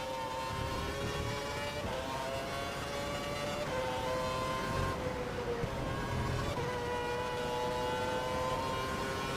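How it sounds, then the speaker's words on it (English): Formula 1 car engine in F1 2012 at the Hungary Grand Prix, a steady high-pitched whine whose pitch rises and dips as the throttle is feathered, loud and continuous without pause. "You can hear me feathering the throttle."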